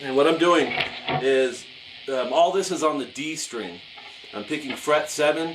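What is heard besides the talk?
No distinct noise like a dog, phone or traffic.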